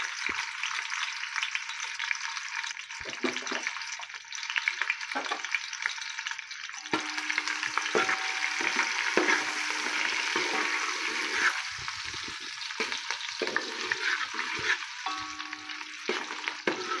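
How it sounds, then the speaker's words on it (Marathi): Finely chopped capsicum frying in oil on low heat for pav bhaji, a continuous close sizzling hiss with occasional stirring scrapes and soft knocks, no speech. "तेल घालून झालं की त्याच्यात मी ही एक बारीक चिरलेली शिमला मिरची"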